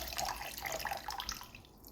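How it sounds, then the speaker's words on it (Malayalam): Water pours into a cooking pot of fish curry, making faint, bubbly splashing and dripping sounds that trail off toward the end, heard alone without speech. "ഇനി നമുക്ക് വെള്ളം ഒഴിച്ചിട്ട് നമുക്ക് ഇളക്കാം."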